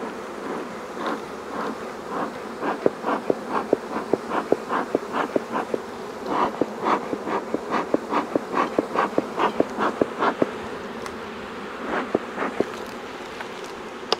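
Honey bees buzz around a feeder box in a steady, close drone, with a run of regular soft thumps or taps pulsing through it.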